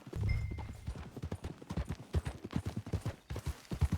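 Horse hooves clip-clop in a steady, even rhythm in Red Dead Redemption 2, close and fairly quiet, running through the whole stretch with no talk over it.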